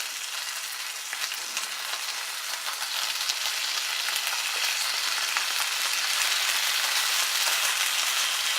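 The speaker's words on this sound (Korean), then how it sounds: "얇기 때문에 벌써 지글지글 맛있게 익는 소리가 들리네요." Thin food fries in a pan with a dense, even sizzle, like a constant crackling hiss that stays close and steady without pause and with no voices over it.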